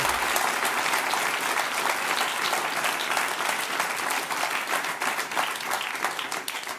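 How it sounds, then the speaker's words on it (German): Dense studio audience applause on a German late-night comedy show, a thick, even wash of many people clapping that stays strong throughout and tapers slightly at the end. "Vielen Dank für den mildtätigen Applaus."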